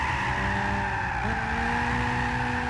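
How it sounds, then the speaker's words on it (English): Tyres squeal on a Honda Fit being driven hard in Gran Turismo 6. The screech is loud and sustained against a steady engine drone, and its pitch drops partway through. No one speaks. "front left tyre was screaming in agony"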